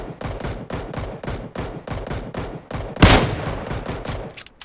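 Automatic gunfire in the battle royale game PUBG Mobile: rapid, rhythmic bursts of shots, with a louder, sharper blast partway through and no talking.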